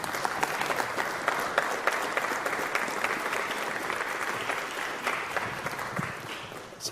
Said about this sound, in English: Let's give another round of applause to Swamiji.